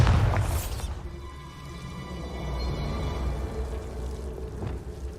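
A Bombarda spell in Hogwarts Legacy bursts with one loud, close explosion at the start, then a long rumbling, ringing decay fades out.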